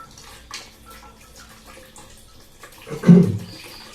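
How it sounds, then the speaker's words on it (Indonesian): Milk poured into a container while mixing an organic plant-spray recipe, a short liquid splash and gurgle swelling near the end after quiet background. "Kemudian kita masukkan juga air susunya"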